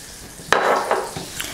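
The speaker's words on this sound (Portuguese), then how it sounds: "Enquanto essa manteiga derrete" Butter melting in a pan, a soft close sizzle with a few sharp clinks and scrapes of a utensil against the pan, alone without talk.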